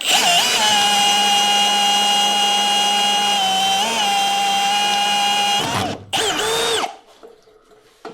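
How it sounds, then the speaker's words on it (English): A power drill whines loud and steady at high speed for several seconds, briefly dips, then winds down and stops abruptly, leaving near silence. "a little more drilling."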